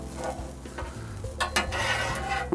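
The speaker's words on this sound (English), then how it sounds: "Let's keep this cheese moving around a bit." Grilled cheese sizzling on a flat top grill, a steady close frying hiss with scraping and clicking as a spatula shifts the sandwich around, no voices.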